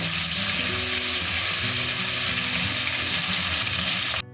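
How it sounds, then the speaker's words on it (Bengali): A continuous crackling sizzle of small morola fish frying in oil, steady and fairly loud, cutting off abruptly at the end. "ওখানে মাছটা ভাজা হচ্ছে"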